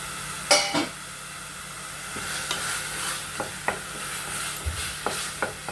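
Millet beetroot biryani masala with turmeric is being sautéed in a pan, giving a soft, steady sizzle broken by scattered spoon stirs and scrapes, one sharper clink near the start.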